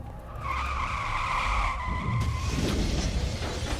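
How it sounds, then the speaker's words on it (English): A car engine revs hard as the vehicle speeds up, its tyres squealing into a loud, sustained skid that rises over a steady engine roar with no talking. "Accelerating car to a high speed."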